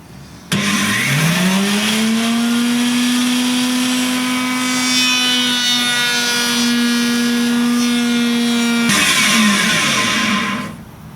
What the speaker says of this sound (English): I'm only going to be shaving off a tiny bit extra off that existing bevel